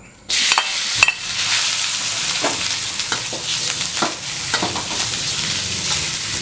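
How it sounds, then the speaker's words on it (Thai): Noodles stir-fried in a hot wok with garlic-scented oil for a Thai seafood rad na: a loud, bright sizzle bursts in at once and keeps hissing, with scraping stir strokes cutting through now and then. "แต่กระทะต้องร้อนนะครับ เอาเส้นลงไปผัด"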